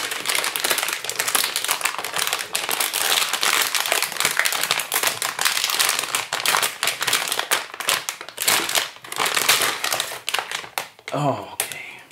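Packing tape on a Powercolor Radeon 290 PCS+ graphics card box being picked at and peeled during unboxing, a dense run of close crackling, tapping and ripping noises with a final tearing burst, and a voice talking at times.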